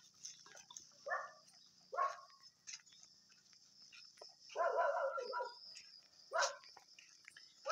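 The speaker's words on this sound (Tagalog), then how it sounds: "Natahulan na ako din ng aking aso." A dog barks several times in short, separate yips and a longer burst, fairly close, with crickets chirping steadily in the quiet background.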